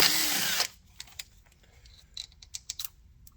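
A power drill backs out two 8mm bolts from a Suzuki SV650/SV1000 motorcycle starter in one loud, close burst of under a second, then a series of faint ticks and clicks as the bolts come free.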